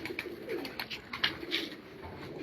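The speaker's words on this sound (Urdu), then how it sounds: "تو یہ جو ملک عامر کلیار صاحب کے پاس جو کبوتر ہے" A racing pigeon coos softly in low, rolling calls on a rooftop in Punjab, quiet and close, with faint chirps and background rustle and no speech.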